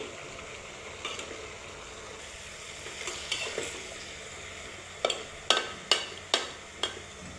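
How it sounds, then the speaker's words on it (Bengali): Bottle gourd pieces go into a pan of frying meat curry, setting off a steady low sizzle broken by a series of sharp clanks and scrapes of a spoon stirring, growing louder and more frequent toward the end. "এবার আমি লাউগুলো দিয়ে দিব লাউগুলো দিয়ে"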